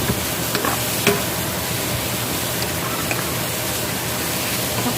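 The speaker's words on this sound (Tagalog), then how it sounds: "haluin." Food, seasoned with a little salt, sizzles steadily in a frying pan while it is stirred, with a few faint scraping clicks over the constant frying hiss.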